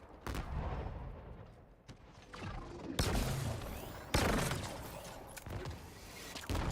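Gunfire in a Halo Infinite multiplayer match, a rapid series of sharp weapon shots and bursts over busy game effects, fairly loud and continuous with a few heavier blasts.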